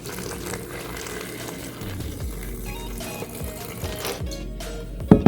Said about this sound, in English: the next step is to add water up to the black line where the rocks or sand stop